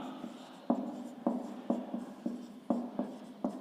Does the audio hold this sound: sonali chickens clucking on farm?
no